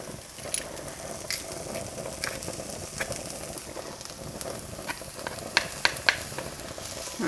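Pressed garlic added to a pan with onion for a lentil curry, giving a soft continuous sizzle and fry under light stirring, with a few small clicks and taps near the end.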